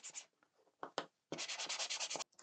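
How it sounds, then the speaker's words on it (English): Close-up sanding of small wooden parts for a U.S.S. Constitution model ship, a few short scrubbing strokes followed by a steady run of rapid, rhythmic back-and-forth rubbing. "it will become religious to you about sanding these down"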